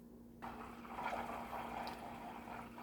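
Butter simmers in a pot while being clarified into ghee, a soft continuous bubbling and fizzing hiss rising suddenly and then holding steady under a constant low hum.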